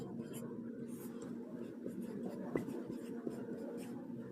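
A pen scratches out a handwritten class 10 math solution, with faint strokes and taps heard up close beneath a quiet speaking voice.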